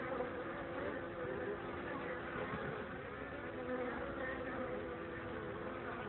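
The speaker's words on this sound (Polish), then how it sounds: "Pszczoły noszą pyłek." Honey bees at an apiary on a sunny, snowless early-February day, carrying pollen: a faint, continuous hum of many bees buzzing together as a steady swarm drone with no clear individual passes.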